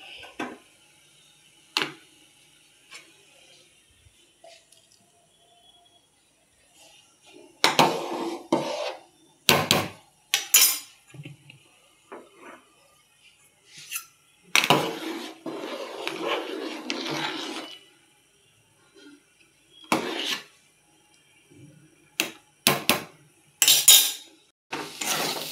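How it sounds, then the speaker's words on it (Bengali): Lentils (dal) are stirred in oil in a pot, heard as scattered bursts of scraping and clattering utensil strokes against the metal, separated by quiet gaps. "ডালটা তেলের উপরে একটু নাড়াচাড়া করছি"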